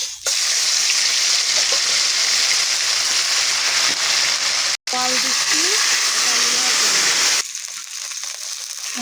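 Spice paste for a koi fish curry hits hot oil with a loud, steady sizzle that runs for several seconds, briefly cuts out, then returns with faint stirring clatter and drops to quieter frying near the end.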